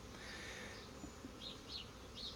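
Honey bees around beehive splits give a faint, steady buzzing hum with a few brief higher buzzes passing close by, and no talking.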